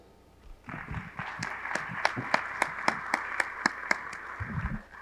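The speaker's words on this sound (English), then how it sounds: "join me in thanking our panelists with a round of applause" Seminar audience clapping for a panel, a broad wash of applause rising after a brief pause and holding steady, with sharp individual claps standing out, while a voice speaks briefly beneath it.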